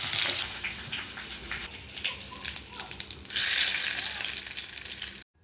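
Dried red chili and curry leaves crackle and sizzle in hot oil as a tempering for a roasted-spice keerai kadayal, a steady close frying hiss that swells louder partway through and cuts off abruptly at the end.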